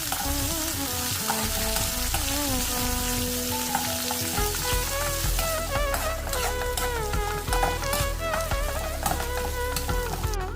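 Ginger, garlic and shallots sautéing in a pan for a chutney, a steady close sizzle and fry with stirring, running under a layer of background music throughout.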